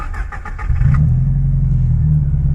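A Subaru WRX with a newly replaced clutch and new bushings, out for its first drive in two months: a few light clicks, then a deep, steady engine rumble close up.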